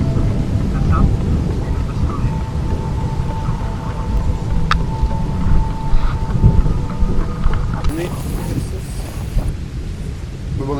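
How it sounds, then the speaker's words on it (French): Thunder rumbles in the distance while rain falls steadily on and around a camping tent at night, a loud continuous low roar with heavier swells, and voices speak briefly nearby. "la pluie commence à tomber et des orages retentissent au loin"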